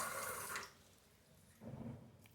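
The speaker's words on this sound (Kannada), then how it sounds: "ನೀರನ್ನು ಹಾಕ್ಕೊಂಡೆ" Water is poured into ragi rava dosa batter in a short splashing burst, then it goes quiet and a second softer pour follows, close and fairly faint, with no talking.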